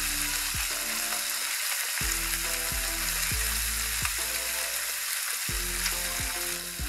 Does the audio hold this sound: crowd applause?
no